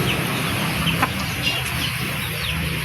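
Rooster clucking in a farmyard among chickens at feeding time, short soft clucks repeating intermittently over a steady noisy background.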